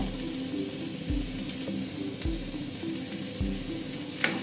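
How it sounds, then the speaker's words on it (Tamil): Green chillies and curry leaves sauté in hot oil in a pan, a steady close sizzle broken by a few soft rhythmic scrapes and clunks of stirring, with no talking. "நல்லா வதக்கி விடுங்க."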